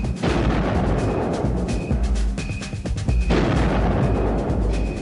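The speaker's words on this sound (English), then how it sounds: "The artillery system 10 miles or more behind them is instructed to fire its Copperhead round into the approximate vicinity of the target." Artillery firing a Copperhead laser-guided shell: dense, continuous booming roar with heavy low rumble throughout, loud and sustained, with faint tonal whines layered on top.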